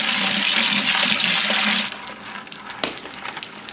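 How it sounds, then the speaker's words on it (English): Water pours steadily into a bucket of sand fleas, a loud rushing gush for about two seconds before cutting off to quieter dripping and a single splash. "I'll go ahead and rinse them down"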